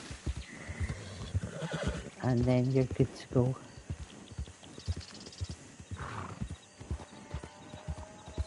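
A horse in Red Dead Redemption 2 Online whinnies loudly over steady hoofbeats, with someone talking briefly near the end.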